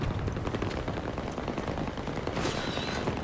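Dense, continuous gunfire from Battlefield 2042, with rapid automatic bursts and overlapping shots that fill the scene at a steady loud level with no pause, over a constant rumble of battle.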